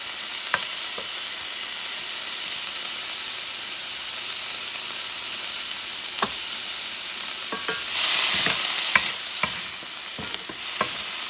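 Garlic sizzles in melted butter in a pan for peppered shrimp noodles: a steady, close frying hiss broken by sharp stirring clicks, with a brief louder surge of sizzle partway through.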